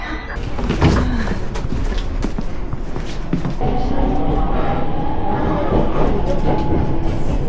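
A one-man local train bound for Matsumoto, Japan, rumbles along with a continuous low roar and rattle, punctuated by a few knocks and clicks of the carriage.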